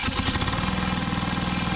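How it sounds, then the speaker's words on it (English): Small lawn mower engine just started with a cordless drill, running steadily with a rapid, uneven chugging putter close by, alone with no talking. "Dang, she fired right up. What? This thing is running."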